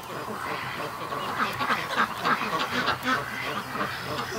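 Muscovy ducks in an enclosure where duck and goose eggs are hatching, heard as a dense, steady layer of soft, raspy calls, close and continuous throughout.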